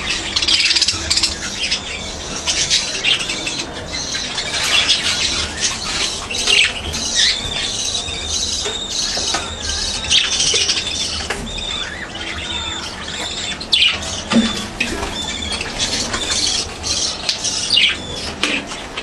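Small pet birds, just bathed and shaking themselves dry, squawk and chirp continuously at close range, a busy, chattering flock with occasional sharp calls and light flutters.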